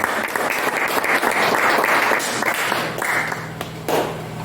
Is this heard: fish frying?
no